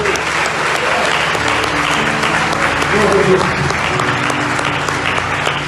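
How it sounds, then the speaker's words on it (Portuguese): A church congregation applauds loudly and steadily throughout, dense clapping filling the room while a voice speaks over it. "Diga graças a Deus e aplauda o nome do Senhor."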